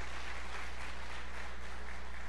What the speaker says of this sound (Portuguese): agora uma linda salva de palmas